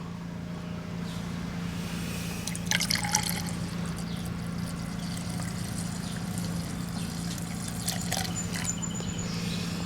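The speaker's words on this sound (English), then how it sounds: "I'm going to go ahead and dump some gas in here, rinse this cup out." Gasoline poured into a plastic cup and swirled around to rinse it, a soft continuous liquid trickle and slosh over a low steady hum, with a few faint handling clicks.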